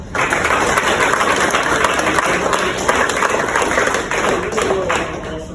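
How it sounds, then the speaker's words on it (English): A conference crowd claps in sustained applause for the HFG team, a dense, loud, even wash of hand claps lasting several seconds, heard alone without speech. "let's just give them a round of applause."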